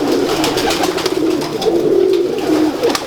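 Pigeons coo in a low, continuous, rolling murmur that runs the whole time, close and steady, at a gathering of fancy pigeon keepers in Gujranwala, with a wash of background noise and no clear speech.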